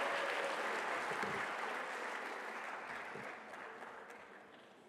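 Applause for retirees at a Monroe Township school district ceremony: a sustained round of clapping from an indoor audience, steady at first and gradually fading.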